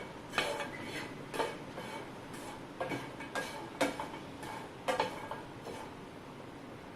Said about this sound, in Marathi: आता मखाने क्रिस्पी होईपर्यंत आपण फ्राय करून घेऊया